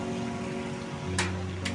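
Rain falls steadily outdoors on a wet road, a dense even hiss close by with a couple of brief sharper splashes.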